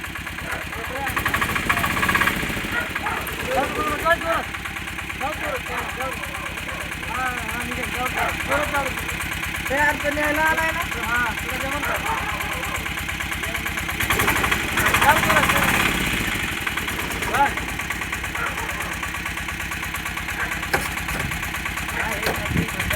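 A tractor engine chugs steadily at a moderate distance throughout a roadside spot with a broken chamber cover, with people talking over the rumble.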